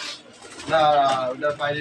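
A pigeon coos in a low, rolling burst that swells and fades, close by, with a second shorter coo following.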